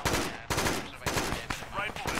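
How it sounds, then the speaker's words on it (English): Loud, close automatic gunfire during a military op, rapid bursts of shots in quick succession with brief gaps, a voice faintly present between them. "I'm just shooting wherever"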